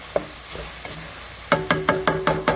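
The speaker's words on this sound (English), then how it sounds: "Got some good fry going on" Sausage frying in a pan for spaghetti: a steady sizzle, then a quick rhythmic series of about six scraping stirs against the pan, close and clear with no talking.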